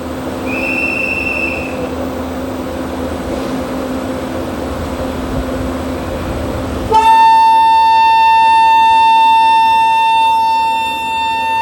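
A train departs Narsinghgarh railway station at night. A steady, low rumble of the train and station gives way to a long, loud, sustained horn blast, heard close.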